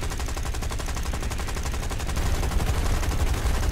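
Rapid, steady machine-gun fire from a P-40 Peashooter fighter plane in War Thunder, a continuous rattling stream of shots at an even rhythm that grows slightly louder near the end, with a low engine drone underneath.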